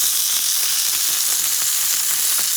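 Food browning in a frying pan gives a loud, continuous close sizzle with faint intermittent crackles and no voices over it.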